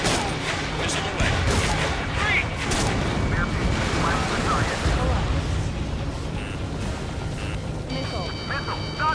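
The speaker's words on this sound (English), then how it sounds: "Missile away." A missile launch and explosions in the Ace Combat 7 video game, rumbling blasts and whooshes over a continuous roar of combat with game voices talking, and alarm-like tones beeping near the end.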